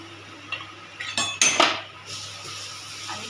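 Fresh grated coconut is tipped into ghee in a pan and stirred for a coconut vadi sweet, with a few sharp metal spatula clanks and scrapes bunched in the middle, then a quieter pan hum.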